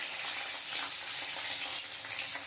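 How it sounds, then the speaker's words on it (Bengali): Green chilies and garlic frying in hot oil for a cauliflower-leaf mash, giving a steady, close crackling sizzle that runs evenly throughout with no talk. "আমি দুটো কাঁচা লঙ্কা আর রসুন তেলে ভেজে নেব।"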